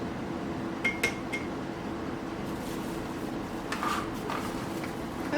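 A spoon presses rice down inside a can to mold mystery meat sushi, giving faint metallic clinks and soft scraping over a quiet room background, with no talking.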